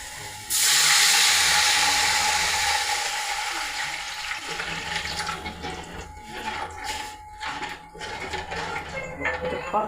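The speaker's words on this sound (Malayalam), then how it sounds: "അപ്പം നമുക്കിനി ഇതിനകത്ത് വെള്ളം ഒഴിച്ച് കൊടുക്കാം." Water poured into a hot pan of frying upma base with browned chilli and urad dal gives a sudden loud sizzling hiss that steadily fades into softer bubbling and crackling, with voices speaking over it.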